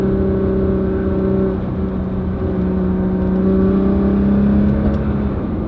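A Nissan GT-R sports car engine hums steadily close by on a canyon road, its pitch holding then dropping briefly before rising again as it revs through a shift.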